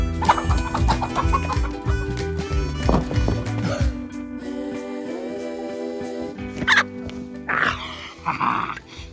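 A chicken clucks and squawks close by amid rustling and handling noises, the calls coming in irregular bursts.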